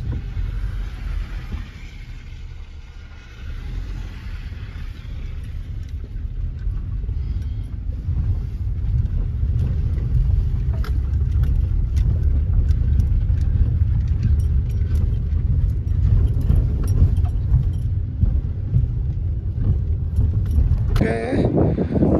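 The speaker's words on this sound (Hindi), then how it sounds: "हम गाड़ी निकालेंगे" Car driven off-road up a snowy mountain route near the high pass on the Leh to Delhi journey, a steady low engine drone with wind rumble building over time, and people talking over it.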